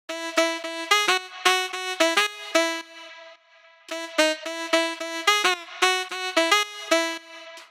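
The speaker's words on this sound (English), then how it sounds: "this is just a Nexus preset called Tenor Sax Full" A synthesized tenor sax, the Nexus preset Tenor Sax Full, plays a bouncy lead line of short phrases, pausing briefly midway before the melody resumes.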